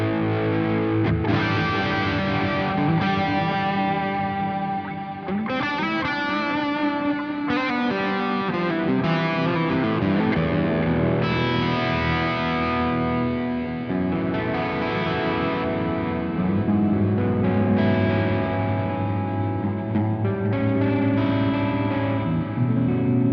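A distorted electric guitar plays sustained chords and notes through a real amp with Two Notes Genome, washed in heavy reverb and repeating delay echoes, steady and loud throughout.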